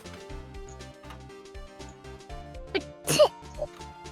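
A single sneeze bursts out sharply in the Ace Attorney Trilogy game, over a looping synth music track.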